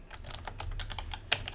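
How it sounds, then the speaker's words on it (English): Rapid typing on a computer keyboard, a steady run of light clicks with one sharper keystroke near the end, close and fairly quiet over low background hum. "Typing, live on air."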